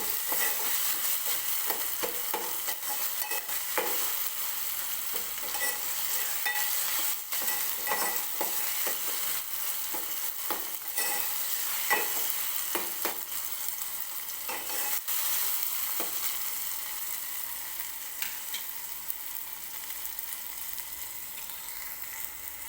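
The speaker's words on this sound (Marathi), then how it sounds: "व्यवस्थित तेलात टोमॅटो पण भाजून घ्यायचा आहे" Tomato fries in oil in a pan, a close and steady sizzle broken by repeated scraping stirs across the whole stretch, with no one speaking.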